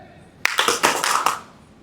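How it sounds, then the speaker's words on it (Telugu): A training group claps in response to a called-out command, a sharp first clap followed by a ragged flurry of claps from many hands that fades out, close and loud. "నేమ్ అన్నప్పుడు క్లాప్ ఇవ్వాలి"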